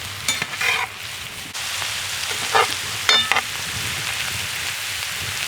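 Ingredients with barberry sizzle in a frying pan while being stirred, a steady hiss of frying broken by a few clattering scrapes of the spoon against the pan.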